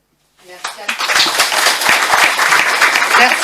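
Audience applause breaks out at a public meeting in support of a local election list in Gravelines, starting abruptly and holding as a loud, dense, sustained clapping from a crowd indoors.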